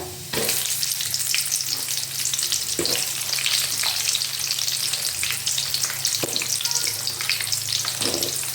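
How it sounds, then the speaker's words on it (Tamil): Roasted gram (pottukadalai) frying with onion in a pan for Bengal gram chutney, with a dense, steady sizzle and crackle, punctuated by a few soft stirring scrapes. No voices. "ரொம்ப பொரிக்க விடாதீங்க பொட்டுக்கடலை."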